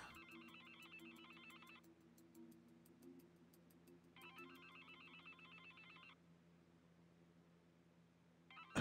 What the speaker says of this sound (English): so the phone's ringing